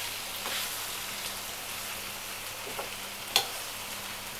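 Fish fry sizzling softly in a pan while being turned now and then, a steady low frying hiss with a few faint scrapes and one sharper clink, no talk.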